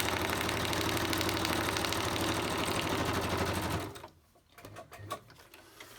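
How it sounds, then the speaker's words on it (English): A sewing machine stitching fabric runs in a fast, steady mechanical whir for about four seconds, then stops, leaving a few faint clicks and handling noises. "So I'll just stitch down there."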